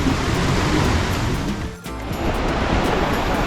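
Sea surf at Koh Larn beach near Pattaya, by the long pier at Hat Tien, makes a steady, loud broadband wash with a brief lull midway, and no talking is heard.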